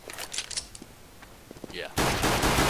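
Mac-10 and other gunfire in a Counter-Strike match: scattered shots and clicks, then a sudden loud, sustained burst of automatic fire to the end.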